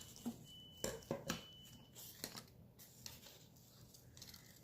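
Scissors snipping through paper scraps while decorating an envelope in a vintage grungy style, a few quick close cuts in short bursts followed by faint handling rustle.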